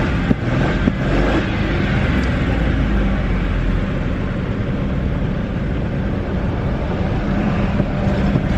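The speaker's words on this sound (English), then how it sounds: "Yeah, we still have a slight misfire now." A station wagon engine runs at steady idle with a slight misfire, giving a dense, continuous mechanical rumble that is loud and close, with faint irregularity and no voices.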